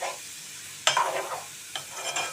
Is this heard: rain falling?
no